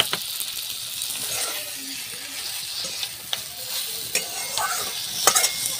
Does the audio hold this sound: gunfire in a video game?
no